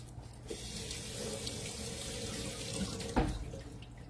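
Tap water runs steadily into a kitchen sink while an onion is rinsed, a continuous close rush with a brief louder splash near the end, no talking.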